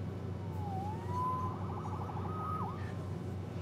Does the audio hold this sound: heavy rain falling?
no